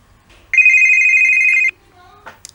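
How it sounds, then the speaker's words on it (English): A phone ring sound effect plays as a preview in the Episode Interactive editor: one loud, steady electronic ringing tone lasting about a second, followed by a brief quieter chirp. "I'm going to click on this play button next to phone underscore ring, and it's going to give me a preview of what that sounds like."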